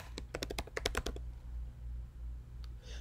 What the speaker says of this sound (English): So let's type that one in there.